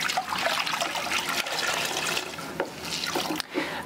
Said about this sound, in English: So I let the water run down on top of the faucet